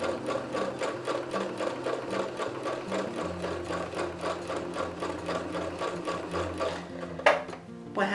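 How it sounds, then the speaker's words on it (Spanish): Sewing machine running a straight stitch with a free-motion embroidery foot while quilting fabric, a fast steady mechanical whirring chatter of stitches, close and continuous, briefly pausing near the end. "voy con puntada recta, también por el borde con el prensatela de bordado libre"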